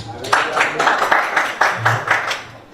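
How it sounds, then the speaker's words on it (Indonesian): A church congregation claps in a rhythmic, unified pattern of repeated strikes, moderately loud and roomy, with some voices murmuring underneath. "Tepuk tangan buat GPDI."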